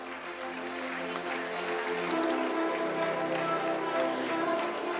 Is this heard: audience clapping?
yes